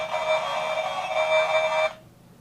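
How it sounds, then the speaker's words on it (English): A 1993 Mighty Morphin Power Rangers Dragon Dagger toy sounds a harsh, buzzy electronic tone for nearly two seconds, then cuts off abruptly, close and fairly loud, with no talking. "which is just a metally, bassy version of the Go-Go Power Rangers theme"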